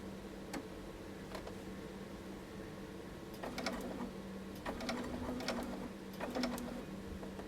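A domestic sewing machine stitches toward the point of a notched corner at a reduced stitch length, a quiet, steady mechanical whir with fine ticking in several short bursts, fairly close.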